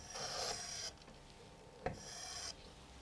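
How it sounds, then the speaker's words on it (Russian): Pencil or compass lead rasping across paper while drawing a circle, two separate scratchy strokes each lasting under a second, close and fairly quiet, with a soft tap between them. "Первую окружность проводим"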